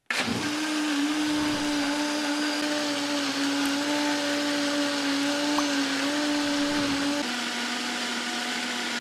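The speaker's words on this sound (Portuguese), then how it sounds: "Agora eu vou colocar esses ingredientes para liquidificar até ficar homogêneo." A blender whirs steadily for about nine seconds, blending flour, liquids and other savory pie batter ingredients, with a constant loud motor hum and no voices.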